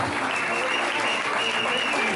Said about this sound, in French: Et nous allons commencer par Lucie. On peut l'applaudir aussi.